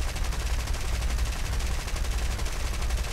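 Rapid, sustained machine-gun fire from a Blenheim Mk IV bomber's tail gunner in the War Thunder flight game, a dense, loud, continuous rattle of shots throughout.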